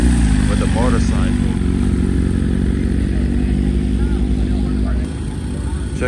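A motorcycle engine runs loud and steady at a car meet, its deep rumble dominating throughout, while people talk over it and the level dips slightly near the end.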